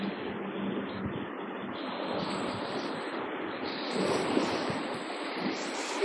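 Sea waves washing onto the shore at a beach, a continuous broad rushing surge that swells slightly toward the end, close and steady with some wind noise and no talk.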